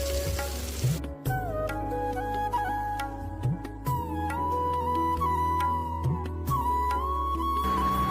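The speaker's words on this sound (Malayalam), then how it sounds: "ഇനി നമുക്ക് തക്കാളി ഇട്ട് കൊടുക്കാം" Tomatoes tipped into a pan of softened, sizzling onions for a simple beef curry, a steady close frying hiss with brief stirring noises, set against background music and no speech.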